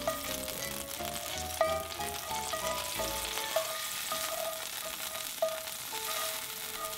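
Garlic sizzling in olive oil in a cast iron pan, a constant crackling hiss close by, with a few faint tonal notes ringing over it and no voices.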